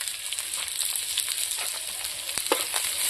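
Chopped onion frying in oil with bay leaf and green chilli for a Bengali fish curry, giving a continuous close hissing sizzle with light stirring scrapes.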